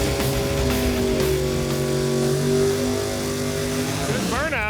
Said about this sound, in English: Good burnout, I'll tell you that